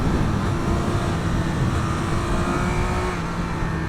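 A Triumph Speed 1200 RS motorcycle engine accelerates with a loud, steady, close-up drone whose pitch climbs slightly, set against continuous wind and road roar.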